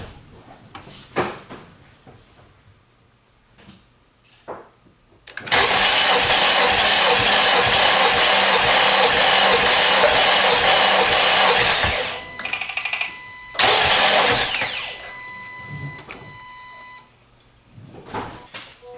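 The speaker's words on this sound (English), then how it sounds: "I'm going to go crank it for cylinder number 2." A 2018–2022 Honda Accord engine cranks over with spark plugs removed for a compression test, a loud, steady mechanical whirring burst of about seven seconds that stops, then a shorter second crank, with quieter clicks and handling noise around it and no talk.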